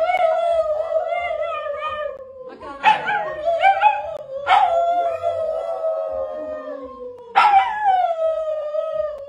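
A young dog howls in long, wavering cries, broken by a few sharp yips and barks, loud and close.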